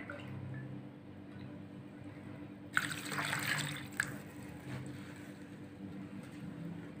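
Water is poured into a cooking pot of pilaf, a brief gush and splash with a few drips following, faint and close against a quiet kitchen background hum.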